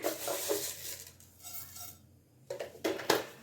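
Mustard seeds dropped into hot oil in a heated pan, bursts of sizzling and scraping clatter from utensils against the pan, with quieter gaps between.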